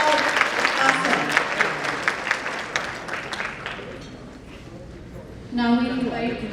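Banquet guests at a fundraising dinner applaud performing kids, a strong burst of clapping that fades away over a few seconds, followed by a voice speaking over a microphone.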